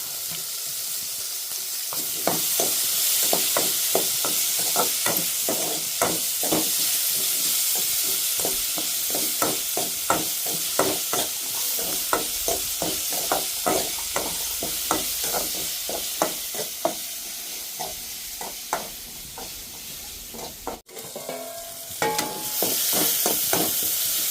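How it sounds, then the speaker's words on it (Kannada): Onions and tomatoes frying in a pan in a village kitchen, a steady sizzle broken by a long run of rhythmic spoon strokes against the pan, close and fairly loud, with a brief clatter near the end. "ನೋಡ್ರಿ ಇನ್ನೊಟ್ಟು ಫ್ರೈ ಆಗ್ಬಿಟ್ಟಿದ್ದು, ಯಾಕಂದ್ರೆ ಇನ್ನೂ ಟಮಾಟಿ ಫ್ರೈ ಆಗಿಲ್ಲ"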